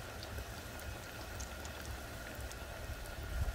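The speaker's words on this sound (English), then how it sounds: "Look at that sizzling." Steady crackling sizzle of peach-beer-battered chicken frying in hot oil, a dense continuous hiss with faint pops, close and moderately loud.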